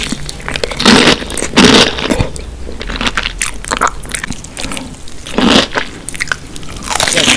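Crunchy, crispy fried chicken being bitten and chewed up close, with loud crackling crunches in repeated bursts and softer chewing between them, with no talking.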